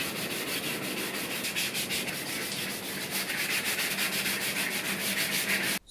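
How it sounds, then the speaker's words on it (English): Steady back-and-forth rasping of sandpaper on a sanding block over a mini ITX PC case surface by hand, a rhythmic scrubbing that continues evenly throughout, close up. "So after the sanding session, as you can see that I've really taken the surface out"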